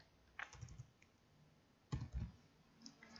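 Keys tapped on a computer keyboard while building a digital worksheet, two short bursts of clicks about a second and a half apart, close and quiet in a still room.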